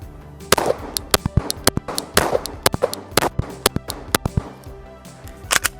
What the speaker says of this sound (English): Let's shoot back there.